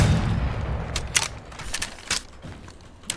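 Gunfire in the video game Apex Legends, a few sharp separated shots and mechanical clicks over a fading low rumble, fairly close and loud.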